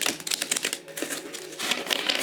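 Rapid, papery riffling and soft tapping as a Kuan Yin Divine Feminine oracle card deck is shuffled close up, in quick irregular bursts with a brief lull in the middle.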